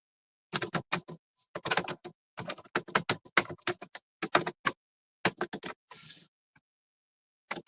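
Fingers tap out quick clusters of soft clicks on a phone keyboard, close and crisp, with brief pauses between bursts and a short rustle near the end.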